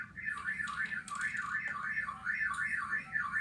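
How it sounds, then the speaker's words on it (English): An alarm sounds in a garage with a repeating rising-and-falling electronic warble, steady and fairly loud, cycling about once per second over low background hum. "I got an alarm going off in the garage"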